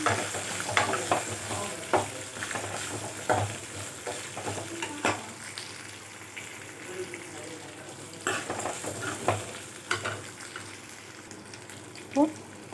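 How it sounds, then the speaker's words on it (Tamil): Dried red chilies and a sprig of curry leaves fry with onion in hot oil for an urad dal and tomato chutney, giving a steady sizzle broken by frequent stirring scrapes and utensil knocks against the pan. "ஒரு மூணு காஞ்ச மிளகாய் ஒரு கொத்து கறிவேப்பிலை போட்டு ஃப்ரை பண்ணுங்கள்"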